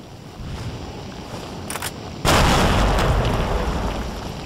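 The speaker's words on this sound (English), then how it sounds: "Let's just throw a little grenade over here." A grenade goes off in the video game STALKER: Shadow of Chernobyl, a sudden loud blast bursting out of quieter ambient background and trailing into a long rumbling roar.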